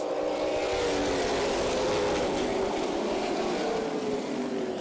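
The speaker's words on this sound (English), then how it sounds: "Ross Kenseth in the 25 lit up the rear tires" Ross Kenseth's number 25 race car spins its rear tires on a late-race restart at Berlin Raceway, a continuous engine roar of a short-track field with no one speaking.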